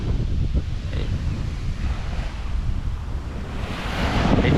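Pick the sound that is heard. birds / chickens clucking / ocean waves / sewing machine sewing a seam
ocean waves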